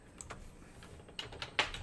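Computer keyboard typing while a field name is entered into an adaptive form, a few soft scattered keystrokes followed by a quicker cluster of sharper taps near the end, quiet and close with no speech.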